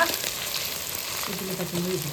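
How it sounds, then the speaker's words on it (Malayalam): Ginger and garlic fry in a pan more than thirty years old with a broken rim, crackling and sizzling steadily while being stirred, with occasional scraping strokes and no talking. "ഇഞ്ചി വെളുത്തുള്ളി നല്ലപോലെ ഇങ്ങനെ ഇളക്കി കൊടുക്കുക."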